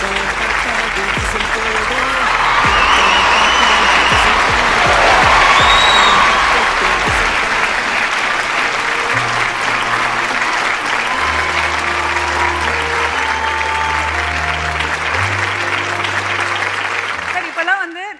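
An audience gives Venkat Prabhu loud, sustained applause. The clapping swells to a peak and then gradually thins and fades, with a voice speaking over the later part.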